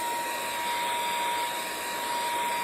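Hair dryer blowing on freshly made craft pieces, a continuous loud, close whooshing roar with a steady motor whine, unbroken across the whole stretch with no talking.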